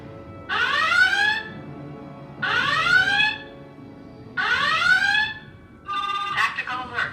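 Star Trek starship tactical alert alarm sound effect played through a home theater, three loud rising whooping tones at even intervals followed by a shorter burst, with low background noise between them.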